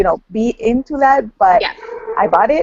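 A dog barks and whimpers in short yips through continuous close talk indoors, the barking blending with the speech.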